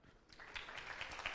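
Students in a classroom clap at the end of a lesson, a faint, short patter of scattered applause that builds slightly after a quiet start.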